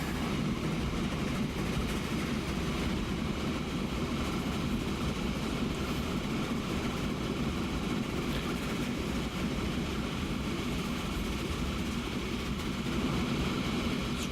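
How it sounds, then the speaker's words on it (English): A train rolls along rails in the Transport Fever game, a steady low rumble with faint wheel clatter that holds at an even, moderate level throughout, with no voices. "And our other train should be on its way back now."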